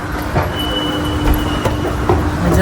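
A metro train in Rome rolls along with a steady rumble and rail hum, a thin high squeal running through it, close and continuous for a few seconds.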